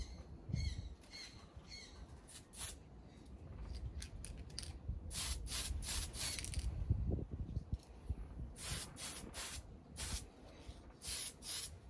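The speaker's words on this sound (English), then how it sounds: "Gonna go ahead and get our second coats of clear on these." Short bursts of aerosol clear coat hiss onto parts of a Revell 1937 Ford Pickup model kit, repeated sprays with brief gaps between them, fairly quiet and close, with faint handling noises.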